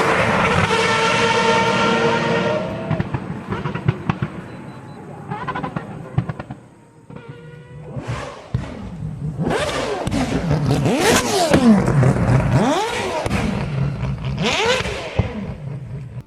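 A loud Mazda 787B race car with a Wankel rotary engine roars past, its pitch sweeping up and down with revs and gear changes, fading briefly before another high-revving pass.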